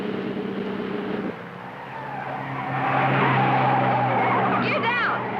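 A sports car on a hay-bale-lined race course accelerates through sharp turns, engine note rising steadily while tires squeal in short bursts near the end; a voice speaks over the engine.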